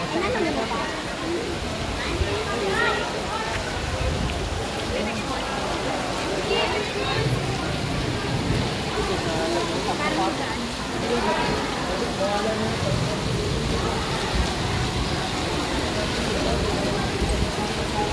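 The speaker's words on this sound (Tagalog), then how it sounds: "Lakas pa rin yung ulan" Heavy rain pours steadily at Sky Ranch, a constant loud hiss and patter on surfaces that fills the scene, with people's voices talking underneath.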